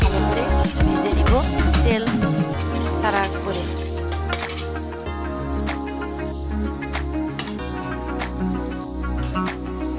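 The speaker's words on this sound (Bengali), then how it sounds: "আমি ওই তেলে পেঁয়াজ কিছু পেঁয়াজ দিয়ে দিলাম পেঁয়াজগুলো ভালো করে লাল লাল করে ভেজে নিব" Onions frying in oil in a pan for chicken tikka: a steady, soft sizzle runs throughout, with clinks and scrapes of a utensil stirring against the pot.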